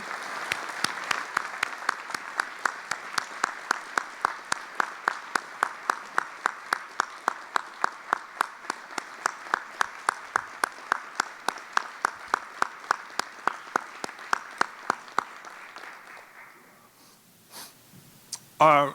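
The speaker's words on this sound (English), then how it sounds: "I hope that you would please join me in a round of applause" Rhythmic, evenly spaced clapping rings out in a room at a town meeting, about three claps a second, sharp and fairly quiet, continuing for roughly fifteen seconds before stopping, followed by a few scattered thumps and rustles.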